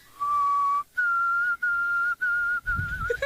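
A person whistles an imitation of the white-throated sparrow's call: a clear, pure tone that holds steady, then a string of repeated higher notes separated by brief pauses, solo and close.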